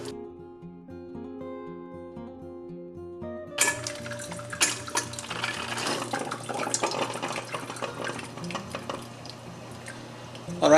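A Keurig coffee maker runs water through its system, starting with a quiet hum and then a loud, steady gurgling and hissing rush with scattered clicks and drips near the machine.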